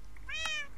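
A single short cat meow from the video game Minecraft, a clear high-pitched call that is quiet and heard alone.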